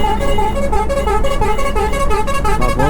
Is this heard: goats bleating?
no